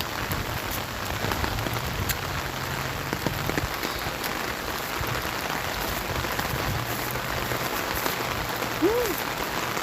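Steady rain falls on a rainy Saturday morning, a dense continuous patter of drops on surfaces throughout, with a faint low hum underneath and no talking.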